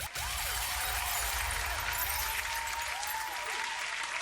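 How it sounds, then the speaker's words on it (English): Audience applause at a graduation ceremony for the current student president, a dense, steady wash of clapping sustained loudly for over four seconds with no talk. "Let us all applause him."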